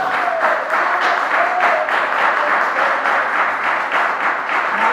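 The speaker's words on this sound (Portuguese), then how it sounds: "dê uma salva de palmas ao Senhor" A church congregation claps together during a sermon, a steady, loud wash of applause with no talk over it.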